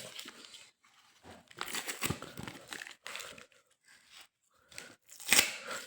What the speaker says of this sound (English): Just remove the tapes, or other way you can use a knife. Just cut it down.